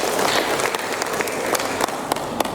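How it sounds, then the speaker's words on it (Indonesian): An audience applauds at an inauguration ceremony for a regional business association, steady sustained clapping from many hands filling the room, moderately loud and even throughout. "Mari kita berikan aplaus kepada Bang Rizky Aulia."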